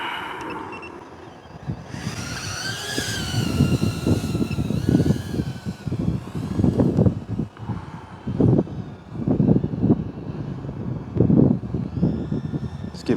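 An LDARC Tiny Whoop quadcopter buzzes in gusty wind, its high whine rising and wavering as motors strain, with wind buffeting the microphone and scattered bumps.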